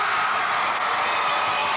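Home crowd cheering for North Greene at a 1989 high school basketball game, a steady, loud wash of indoor crowd noise with no pauses.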